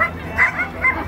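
Sled dogs at the 2021 Snowfest winter snow festival in Frankenmuth, Michigan bark and yip in quick bursts, about three sharp barks close by over a busy outdoor background.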